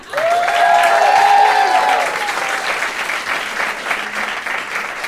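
A live podcast debate audience bursts into loud, sustained clapping that swells quickly and then eases slightly while continuing to the end, with some cheering mixed in.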